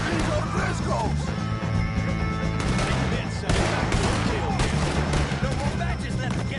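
Gunfire rings out in Red Dead Redemption II during a shootout with the O'Driscolls, a dense run of loud shots layered with game music and voices.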